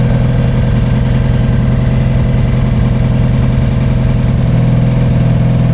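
A motorcycle engine idles with the choke fully on after sitting unstarted for weeks, a loud, steady, close rumble with an even low pulse throughout and no talking.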